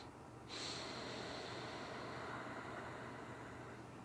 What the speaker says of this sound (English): It's the second part of the inhale.